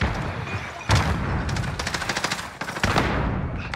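Video game firefight with grenade explosions and gunfire: rapid bursts of automatic shots and heavy booms, loud and close, coming in clustered volleys with brief gaps.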